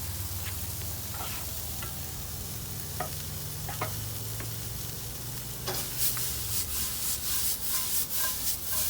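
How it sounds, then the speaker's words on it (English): Soft repeated scraping and rubbing strokes of lemon zested on a grater, close by, steady for several seconds with a low hum underneath, growing a bit louder toward the end. "we're going to zest some lemon"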